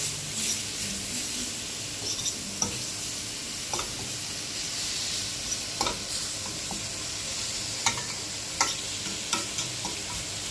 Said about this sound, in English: And you saute.